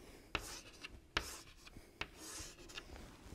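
Pen drawing a diagram on paper during a French maths lesson, with faint close scratching and rubbing strokes punctuated by a few sharp taps of the pen tip.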